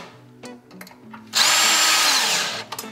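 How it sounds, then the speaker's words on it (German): A power drill with a hinge drill bit bores holes into wood, a loud steady whirring burst lasting over a second, close up, framed by faint clicks and handling noises. "Und jetzt bohre ich mir einfach nur die Löcher, die sich jetzt durch diese Position ergeben."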